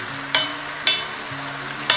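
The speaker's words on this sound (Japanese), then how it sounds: "全体にね、油を回していきます" Cabbage being stirred through oil in a large pot, with three sharp scraping clatters of the utensil at roughly even intervals over a steady background sizzle.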